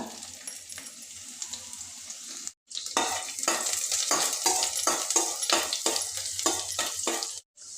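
Garlic sizzling and crackling in hot oil, loud and close, with stirring scrapes and brief pauses.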